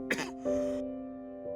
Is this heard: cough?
yes